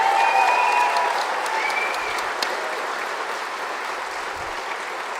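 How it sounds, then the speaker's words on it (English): A round of applause from an audience in Morinville, Alberta, honouring a local flooring business, fills the space with steady, dense clapping that slowly eases in strength, a brief tonal sound riding over the start. "How about a round of applause?"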